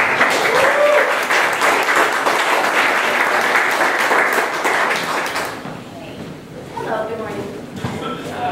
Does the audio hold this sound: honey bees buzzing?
no